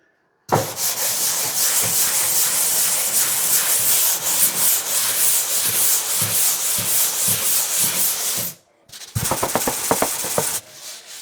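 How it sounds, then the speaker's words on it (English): Sanding a plastered sheetrock wall with a circular motion: a continuous loud rasping scrape for about eight seconds, a brief pause, then a shorter burst of quicker, choppier strokes, with no talking. "when you're sanding the wall, don't go up and down, don't go in one direction only. Go circular motion."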